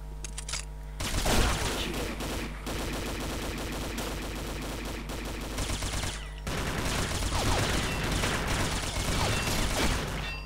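Rapid, sustained bursts of SMG fire in Combat Arms, from the K7, rattle loudly and continuously, with brief pauses between strings of shots over a constant game backdrop.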